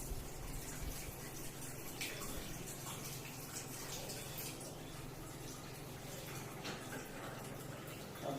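Water pours steadily from a K8 ionizer device set to 11.5 pH, a constant broadband rush running unbroken throughout with no pauses.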